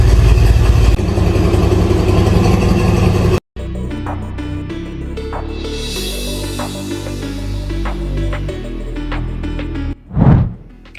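A car engine idles and then runs as the vehicle sets off after an inspection, a loud steady rumble that cuts out briefly, then returns with shifting engine tones and a short surge near the end.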